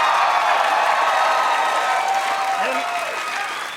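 A talk-show studio audience applauds and cheers loudly as a guest walks out, dense clapping filling the whole stretch before easing slightly at the end, with faint voices mixed in.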